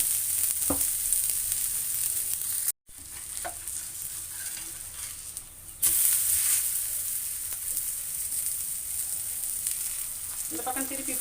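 Ragi and drumstick-leaf adai frying in oil on a pan, a steady close sizzle with a brief drop in level partway through and occasional light scraping sounds; no speech.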